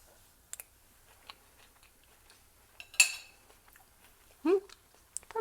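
Someone takes a taste of homemade shrimp fried rice, with quiet, sparse chewing, soft mouth sounds and a few faint clicks of a utensil in an otherwise still room.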